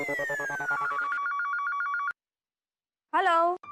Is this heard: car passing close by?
no